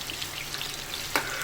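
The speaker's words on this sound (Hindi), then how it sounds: "इनको थोड़ा और फ्राई होने देते हैं।" Chicken 65 pieces fry in hot oil with a soft, steady sizzle and hiss, faint and close, with one brief louder crackle near the end.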